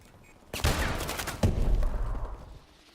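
Rapid bursts of RW1 gunfire in the shooter game Call of Duty: Advanced Warfare, two loud sharp onsets followed by a dense rattling firefight that fades out, heard alone without speech.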